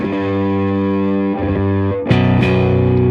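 An electric bass is played through an EBS Billy Sheehan Ultimate Signature Drive pedal, loud sustained distorted notes giving way to a brighter blended tone with clean signal mixed in, a few plucked changes along the way, no talking.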